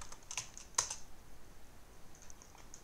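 Keys tapped on a computer keyboard to enter a search, a few quiet clicks and one sharper press in the first second, then softer scattered taps; no voices.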